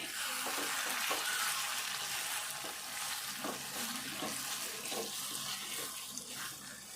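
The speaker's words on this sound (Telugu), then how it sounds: "ఇట్లా కొద్దిసేపు మంచిగా ఫ్రై చేసుకోవాలి" Potato curry frying in oil in a pan for Telangana-style aloo pulusu, a steady close sizzle with occasional stirring scrapes and watery bubbling, no talking.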